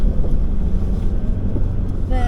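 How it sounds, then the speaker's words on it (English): Strong wind gusting across a frozen lake and blowing snow, a loud constant roar of rumbling buffeting on the microphone, steady throughout with a brief thin whine near the end. "the wind is blow away snow and hold the temperature stable"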